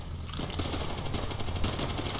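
Rapid automatic gunfire from Call of Duty: World at War, a dense, steady stream of shots starting a moment in and running unbroken at close, loud level.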